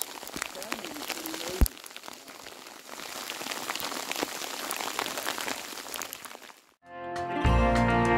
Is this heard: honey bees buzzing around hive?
no